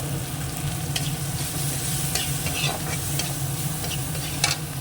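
Onions frying in a pan with turmeric powder and salt added, a steady, close, continuous sizzle with scraping stirs and a few sharp clinks of a spoon against the pan, no voices.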